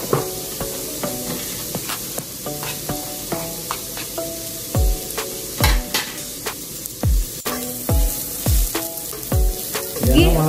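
Garlic browns in a frying pan with a steady close sizzle, broken by repeated scraping stirs and utensil knocks, with no talk over it.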